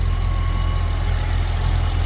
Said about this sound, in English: As you can hear, the engine sounds great.